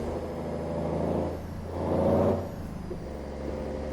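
Heavy truck with a 444-horsepower engine in American Truck Simulator, a low engine drone climbing a hill that swells twice and settles back, with a brief hiss near the end, no speech.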